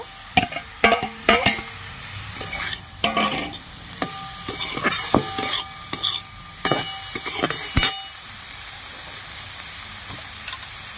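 Brahmi greens cooked in ghee are stirred with fried eggplant in a pan, with repeated sharp clinks and scrapes of a spoon against metal over a steady sizzle, close and fairly loud, no voices.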